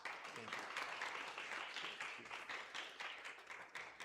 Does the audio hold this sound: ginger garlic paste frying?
no